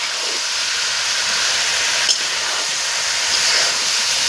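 A fish head and eggplant go into a hot pan for a Malabar spinach dish. A loud, continuous hissing sizzle fills the whole stretch with barely any change, and a small tap sounds midway.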